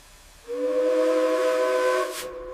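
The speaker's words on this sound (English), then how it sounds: "One final whistle." Steam train whistle at an old 1884 Arizona railway station, one sustained chord-like blast lasting about a second and a half, loud and clear, ending with a brief hiss of steam.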